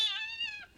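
A voice imitates a cat's meow: a single short, high, wavering mew sliding downward, soft and close, with nothing else around it.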